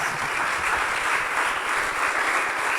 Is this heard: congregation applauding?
yes